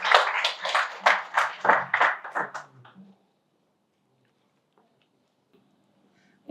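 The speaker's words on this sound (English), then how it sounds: "give him a huge round of applause" An audience at a stage talk claps for an arriving speaker: roughly a dozen crisp, separate hand claps over about three seconds, then near silence.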